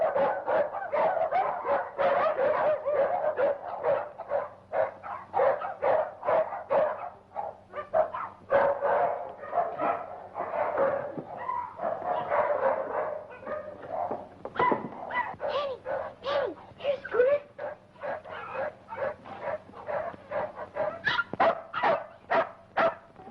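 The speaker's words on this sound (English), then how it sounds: "What's all the barking about?" Several dogs bark repeatedly at night ahead of a coming storm, with sharp overlapping barks, yips and whimpers. They sound close and fairly loud and continue steadily without a break, with no talking.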